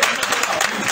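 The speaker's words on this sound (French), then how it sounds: "Applaudissez pour Moussa Diarra" A crowd at an outdoor political rally in Mali applauds steadily, with dense clapping holding at full strength throughout.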